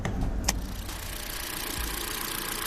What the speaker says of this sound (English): So this is the engine that the Corolla is powered by. 4-cylinder engine.